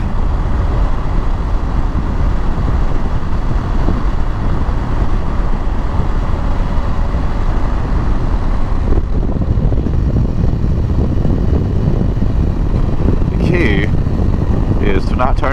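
Loud, continuous engine roar and wind rush from a motorcycle riding fast on a road of switchbacks, steady throughout, with brief higher whines near the end.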